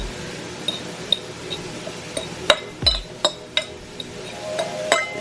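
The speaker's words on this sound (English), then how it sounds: "I'm just gonna mix this up a little bit." A utensil clinks against a glass bowl while food is mixed, giving a string of sharp, bright taps spread irregularly over several seconds, close and moderately loud in a quiet kitchen.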